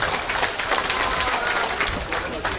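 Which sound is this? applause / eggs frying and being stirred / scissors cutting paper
applause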